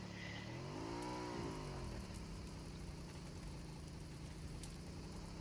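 A motorbike engine revs hard for a front-tyre burnout, rising into one loud swelling rev and falling back into a steady, close, throbbing roar that lasts throughout.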